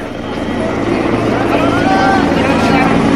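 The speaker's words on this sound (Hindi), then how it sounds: "लगातार राम मंदिर परिसर के ऊपर सीएम का ये हेलीकॉप्टर उड़ रहा है" A helicopter flies over the crowded Ram Mandir complex in Ayodhya, a loud, steady rotor and engine drone that swells slightly, with someone talking over it throughout.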